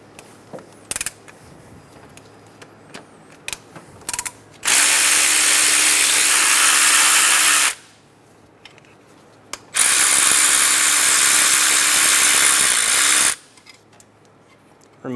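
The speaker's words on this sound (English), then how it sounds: "Remove the 12mm bolts for the cam plate." Power tool removing the 12mm cam plate bolts on a 2003-2007 Honda Accord: two loud sustained bursts of a few seconds each, with small clicks and handling noises between them and no talking.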